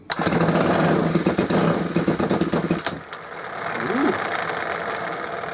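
Ryobi small petrol engine with a freshly rebuilt carburettor, choke on, is pulled and fires, running loud and rough with rapid uneven pulses before cutting out, then a quieter ragged run resumes; a brief exclamation is heard.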